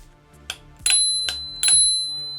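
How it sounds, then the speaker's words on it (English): Bell on a USIE T1 Pro e-scooter, rung three times in quick succession with short bright dings against a faint hum; close and clear, no talk. "Nice little bell."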